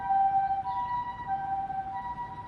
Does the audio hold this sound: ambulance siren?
yes